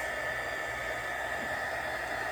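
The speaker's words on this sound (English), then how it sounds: "I'm just gonna use a dryer here and dry this" A handheld dryer blows steadily on a chalk craft project, giving a constant, fairly quiet broadband whoosh with no pauses and no talking.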